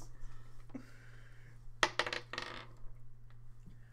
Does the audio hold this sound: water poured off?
no